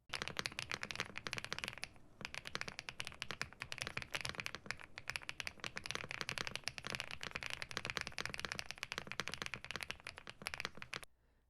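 A mechanical keyboard from a roundup of boards under $100 is typed on steadily, giving a dense, fast stream of close, crisp key clacks for about eleven seconds before stopping abruptly. No voices are heard.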